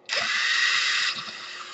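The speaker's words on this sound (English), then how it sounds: "you have to unscrew two screws right here" Small electric screwdriver whirring as it unscrews cover screws on an Asus G55V laptop, a close, high buzzing run of about a second that then slows and fades.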